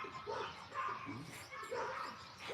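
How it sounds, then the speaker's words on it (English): Indoor dog barking in quick bursts, several sharp barks and yips spaced through the moment, fairly close but moderate in level, with a few whimpery tones between. "I know dogs are supposed to bark, but you're not supposed to be doing that."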